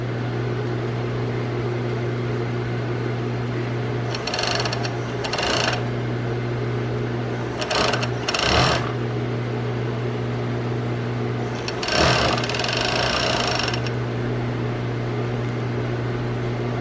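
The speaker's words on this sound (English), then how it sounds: "this is a handy little machine for whatever you're sewing" A sewing machine stitches a dining chair cover, its steady motor drone underneath three separate bursts of brighter, rattling stitching that stop and start again.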